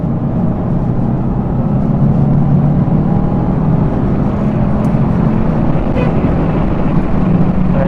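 A Mitsubishi Evo V or VI driven spiritedly, its engine a loud, continuous droning roar with heavy rumble and wind buffeting, sustained without pause and no voices.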